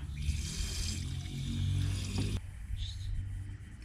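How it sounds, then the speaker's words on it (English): Water pours into the cooling system of a VE Calais V8 (Pontiac G8) during a coolant flush, a continuous rushing, gurgling pour with low rumble that cuts off abruptly partway, leaving quieter trickling. "Let's add water."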